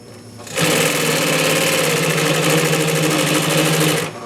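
A Singer 112W115 double-needle industrial sewing machine stitching through several layers of denim with T70 thread runs loud and steady with a fast rhythmic whir for about three and a half seconds, then stops.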